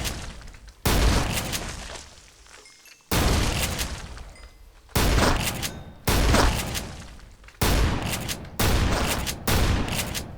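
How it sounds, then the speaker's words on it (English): A pump-action shotgun in the Minecraft Tech Guns mod fires about seven loud, booming blasts at a steady pace, each one trailing off before the next shot. "it's a pump action shotgun, which is my favorite thing about it"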